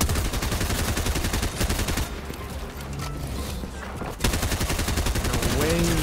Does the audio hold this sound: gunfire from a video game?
yes